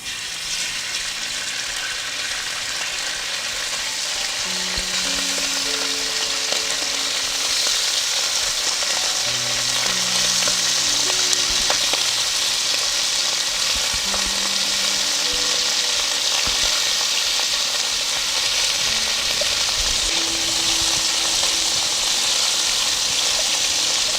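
Chicken pieces frying in hot coconut oil in a pan, a loud, steady, close sizzle that runs throughout, with occasional faint stirring scrapes underneath and no talking.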